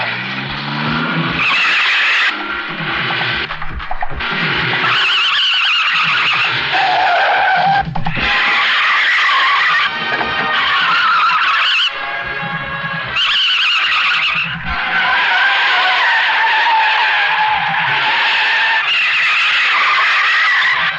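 A car driven fast on a road, with long loud tyre squeals and skids recurring again and again between bursts of engine roar, close by and with no voices.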